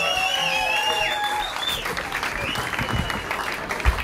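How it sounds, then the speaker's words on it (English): A crowd at a musicians' Christmas night party in Brunnen applauds and cheers, steady clapping with whistles and shouts over it, then thinning toward the end. "So a big round of applause for that."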